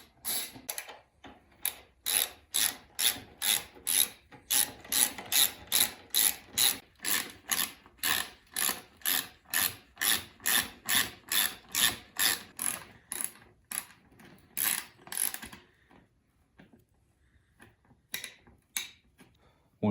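Hand ratchet loosening the 10 mm tank bolts on a 1998 Suzuki RM 250 dirt bike, a close, crisp rhythmic clicking in steady bursts of strokes, pausing then resuming briefly near the end.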